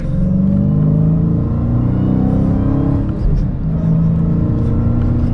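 A Dodge Challenger SRT Hellcat with a 6-speed manual gearbox accelerates from the driver's seat, its exhaust giving a loud, steady, deep rumbling drone that rises in pitch and briefly dips around a gear change, with no talking.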